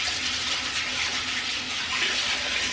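Tap water runs steadily as hands are rinsed at a kitchen sink while preparing a no-bake vegan paleo blueberry cheesecake, a continuous close hiss and splash with no talking.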